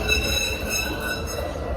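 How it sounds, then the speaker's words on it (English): A Baltimore Light Rail train rolls past close by, a steady low rumble with rail hiss and faint high tonal whine from the tracks, continuous for the whole stretch. "There goes the train."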